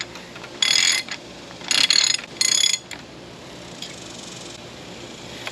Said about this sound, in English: Make sure the threads catch before you put this wrench on there.